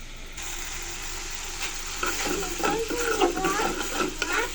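Cut bitter gourd (karela) pieces washed by hand in water: a steady wet hiss, then splashy sloshing and clinking as the pieces are stirred and rubbed. The sound is close and moderately loud, with no talk.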